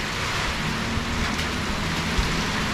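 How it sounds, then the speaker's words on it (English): Steady rain pours at a gym in Bangtao, Phuket, a dense, even hiss that holds at constant loudness throughout, with no voices. "Oh no, the rain, I'm gonna move."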